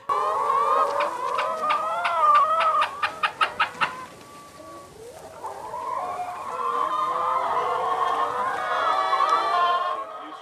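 Chickens cluck and chatter on a farm also keeping pigs and cows, a busy close flock with a quick run of sharp, repeated squawks partway through, then a steady layered clucking that carries on to the end with no talk.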